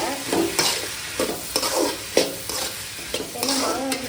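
Raw mango pieces with turmeric sauté in an oiled pan for mango rice, a close sizzle with rhythmic bursts of spatula stirring and scraping roughly every half second.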